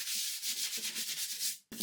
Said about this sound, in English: started sanding everything smooth with an orbital sander and a 120 grit sandpaper